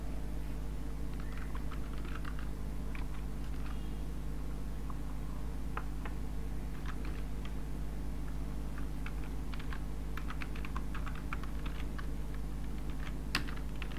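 Light, steady key clicks from someone typing Python code on a computer keyboard run throughout over a constant low electrical hum, fairly faint and close, with no voices.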